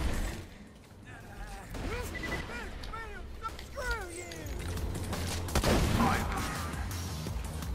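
Gunfire in Borderlands 2 on a snowy map, with scattered shots and impacts under constant game noise while voices and character barks talk over it.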